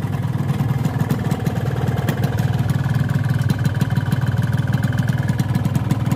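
A hot two-stroke motorcycle engine idles steadily up close, its rapid low putter continuous and loud throughout with no talk over it.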